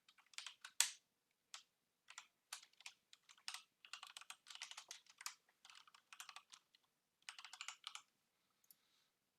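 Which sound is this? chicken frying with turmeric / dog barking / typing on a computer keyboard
typing on a computer keyboard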